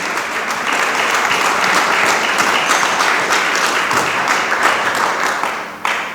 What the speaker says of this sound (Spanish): Dele palmas al Dios del cielo.